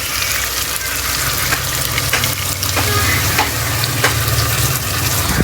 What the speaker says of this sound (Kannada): ಇವಾಗ ರುಬ್ಕೊಂಡಿರೋ ಮಸಾಲನ ಹಾಕ್ತಿದ್ದೀನಿ